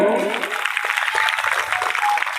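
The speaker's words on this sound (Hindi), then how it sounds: "ताली बजाओ।" An audience at a live Shiv Puran katha in Pratapgarh claps in a steady, dense patter for a couple of seconds, right after a voice speaking at the start.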